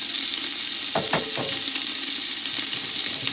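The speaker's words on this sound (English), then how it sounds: "first I'm going to add the bacon in there" Bacon sizzles loudly in hot cooking oil over medium heat in a pan, a dense continuous hiss with a few knocks and scrapes early on, close and without voices.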